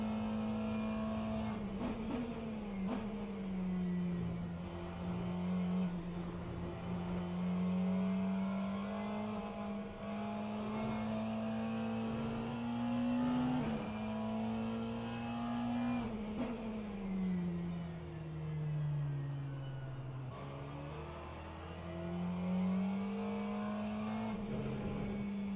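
LMP2 prototypes and hypercars in a racing video game circle the track, their engines droning steadily and rising and falling in pitch through gear changes and corners, with no break in the noise.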